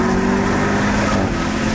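A car engine runs with a loud exhaust, a close and continuous throaty drone with steady low tones and no talking.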